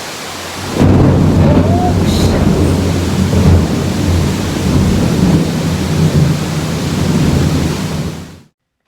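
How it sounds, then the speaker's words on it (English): A rumbling thunderclap rolls in over a heavy rainstorm at a Tulum resort, loud and sustained, with deep booming and steady rain hiss lasting several seconds before cutting off. "Waiting for the thunder."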